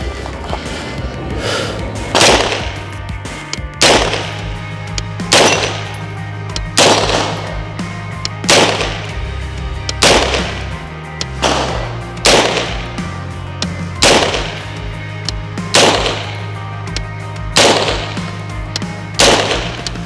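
UTAS UT9-M Mini gun fired at plates, about ten loud, sharp reports spaced roughly two seconds apart in a steady rhythm, with no talk between them.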